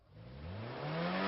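A sudden vehicle skid or braking screech with a rising engine whir behind it, loud and close, building over about a second with no voices.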